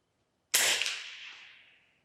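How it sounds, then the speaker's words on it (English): A single FX Impact M3 air rifle shot fired at a 50-yard target, a sharp crack with a bright, hissing tail that fades over about a second and a half, loud and close with no talk. "This is at 50 yards. Gets 4 shots."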